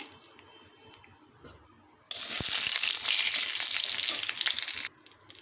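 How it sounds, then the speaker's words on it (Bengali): A bay leaf, a dried chilli and whole garam masala spices drop into hot oil and sizzle loudly for about three seconds, then cut off abruptly, heard close up in a kitchen. "এবারে ওই তেলেই ফোড়নে দেব একটি তেজপাতা দেবো একটি শুকনো লঙ্কা দিয়ে দেবো গোটা গরম মশলা"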